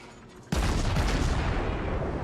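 A sudden heavy naval gun salvo booms in the World of Warships video game, followed by a sustained rumbling roar of incoming shells and explosions that stays loud to the end.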